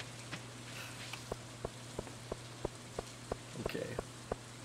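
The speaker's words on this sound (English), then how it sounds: "Just trotting along in the rain." Rain in Stardew Valley falls as a soft, steady patter under an even hum, with faint regular ticking drops spaced about a third of a second apart.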